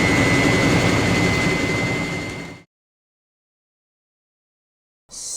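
A washing machine in its final rinse stage gives a loud, steady whirring hum with a tonal whine, cutting to silence midway and then resuming abruptly at the end.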